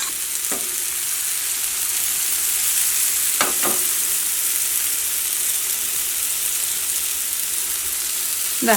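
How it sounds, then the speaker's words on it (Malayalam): Semolina pizza base frying in a pan gives a steady, close sizzle throughout, broken by a few brief scrapes or clinks from the pan. "ഇപ്പോൾ ഒരു സൈഡ് മൊരിഞ്ഞു തുടങ്ങിയിട്ടുണ്ട്"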